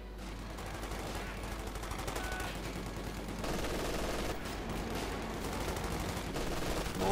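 Machine gun fire rattles steadily in Company of Heroes 2, a World War II strategy game, as long continuous bursts of rapid shots with quiet battle noise beneath, growing slightly louder partway through.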